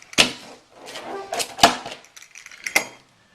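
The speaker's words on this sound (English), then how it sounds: "we're going to slice through 1, 2, we got 4 slices, and then we're going to cut those slices in half" A crispy-bottomed homemade pizza is cut into slices, giving three sharp, crunchy cuts spaced about a second apart, with quieter scraping between them and no talking.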